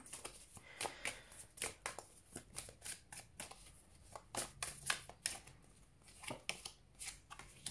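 Tarot cards shuffled and drawn by hand, a dry papery riffle and slap repeating in quick irregular bursts, close and fairly soft, with no voices.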